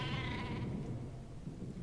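A single sheep bleats in the Worms Revolution video game, a short wavering cry that fades quickly against low background noise.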